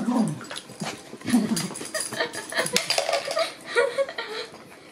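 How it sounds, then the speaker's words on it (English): An excitable dog named Peppa plays with a toy nearby, making bursts of vocal noise mixed with light clattering, and a person talks intermittently. "With a crazy dog."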